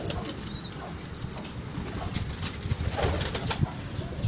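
Pigeons coo softly and flap their wings in a close loft, a few brief wing flutters and low coos over a busy, rustling background.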